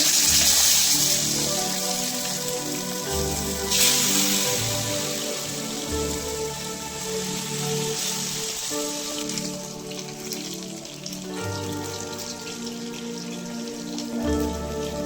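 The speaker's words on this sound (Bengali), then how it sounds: "মাছটা ভেজে নেব।" Tilapia fish frying in hot oil in a kadai makes a dense, steady hiss and spatter like heavy rain, close up and unbroken, with no speech.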